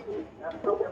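Domestic pigeons of the Kaldoma and Safdoma breeds coo softly at close range, giving a few low, throaty murmurs that swell toward the end.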